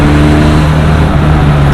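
A QJ Motor SRK 400 motorcycle engine runs loud and steady at high speed, with a constant hum and wind noise and no voices.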